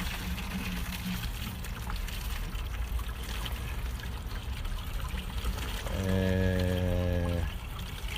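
Rainwater pours steadily into a greenhouse seed tray, a continuous watery splash and trickle against a noisy background, with a brief tonal squeak near the end.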